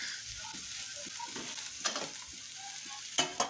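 Cut potato and long beans being stirred in a frying pan, with scraping spoon strokes over a soft sizzle and a couple of sharper clinks near the end; no talking.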